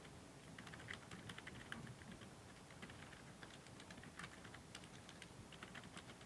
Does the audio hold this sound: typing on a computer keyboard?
yes